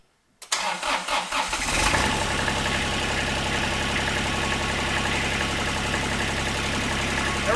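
A Toro Reelmaster 3100D reel mower's diesel engine cranks briefly, catches and settles into a loud, steady idle that runs on evenly and close by, with no talk over it.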